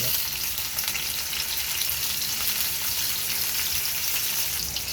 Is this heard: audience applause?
no